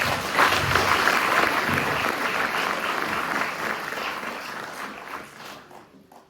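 Audience at a school Christmas play clapping warmly and loudly all at once, the applause holding steady and then thinning out and fading away near the end.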